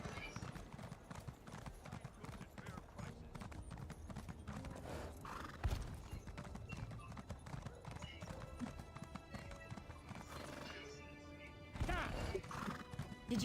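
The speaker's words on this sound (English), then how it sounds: "Horse. The horse." Horse hooves clip-clop steadily alongside whinnies in the Elder Scrolls Online (ESO), over continuous game music and ambience, with a louder burst near the end.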